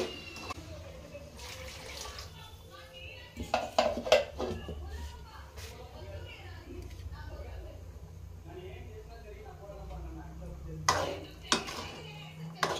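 Masala curry of cauliflower, potato and green peas being stirred in a pot, with scraping and clinking of a spoon against the metal in short bursts, liquid sloshing, and a person talking throughout.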